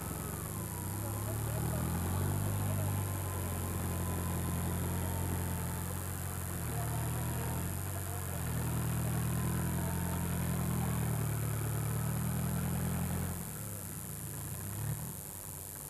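A vehicle engine labors steadily at low pitch, revving and straining with rising and falling tone, loud and close throughout, easing near the end.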